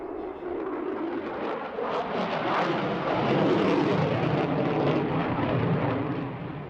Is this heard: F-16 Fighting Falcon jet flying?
yes